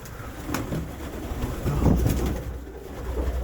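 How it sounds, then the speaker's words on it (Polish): Pigeons being fed in winter coo softly and repeatedly, several birds heard close by over a low, steady background rumble. "A jest piękny gołąb"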